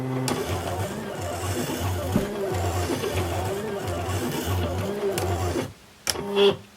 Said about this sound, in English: Now I'm cutting chipboard, and I'm going to start with just a single double cut.